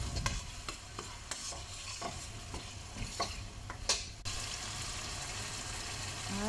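Tomato paste for an Arabic chicken curry stirred in a hot pan, with quiet scraping strokes over a low continuous sizzle, heard close but faint, with no voices.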